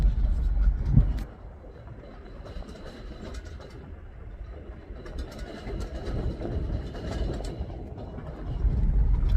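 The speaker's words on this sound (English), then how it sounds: "what's all that noise behind us? We have a trailer again." A trailer carrying a used dishwasher rumbles and rattles behind a moving vehicle, a steady low road roar with clattering on top that lasts throughout, with a little talk.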